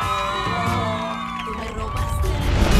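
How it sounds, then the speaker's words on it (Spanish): A studio audience at a television show cheers, whoops and applauds for Sofi over music, with the crowd noise swelling louder toward the end. "Y ahora quiero que le den un gran aplauso a Sofi."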